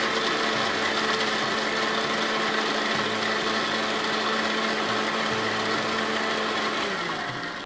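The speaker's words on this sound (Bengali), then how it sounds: "পেঁয়াজ, রসুন এবং থাইম বেক করে নিয়েছিলাম। আমরা এখন এটা একটু ব্লেন্ড করে নেব।" Electric blender whirring steadily as it purées roasted onion, garlic and thyme into a paste, a loud continuous motor drone with slight pitch shifts, no talk over it.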